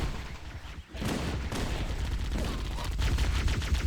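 Gunfire in the video game Halo: Combat Evolved, with dense bursts of automatic shots and explosions mixing into a loud, continuous battle roar.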